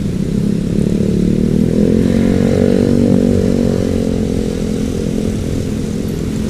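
A motorcycle engine runs steadily close by, a loud continuous idle with a rough, buzzing drone and no voices.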